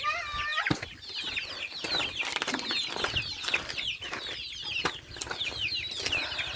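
Chickens cluck and chatter steadily nearby, with a few sharp squawks and a brief flutter of wings among the busy farmyard calls.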